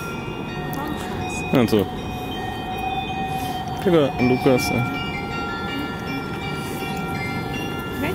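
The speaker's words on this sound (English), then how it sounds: "Die Straßenbahn schon da?" A tram arrives on a city street, its bell ringing in two short bursts over a steady rail rumble, while people talk nearby.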